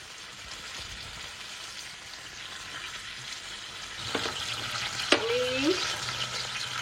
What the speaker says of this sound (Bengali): তেলটা গরম হয়ে গেছে, এবার আমি ফুলকপিগুলোকে ভেজে নেব।